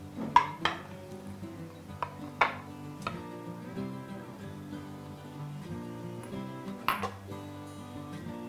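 Coconut rice being served from a pan onto a serving plate in a kitchen, with a few sharp metal-on-metal scrapes and clinks of a spoon against the pan scattered over several seconds.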